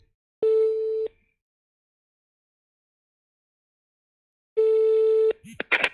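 A phone call rings out in two long electronic ringback tones with a silent gap between them, clear and close, and a voice begins just after the second tone.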